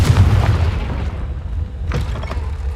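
In Hogwarts Legacy, the Confringo fire spell lands with a heavy, close boom that rumbles away, followed by a second, smaller blast burst partway through.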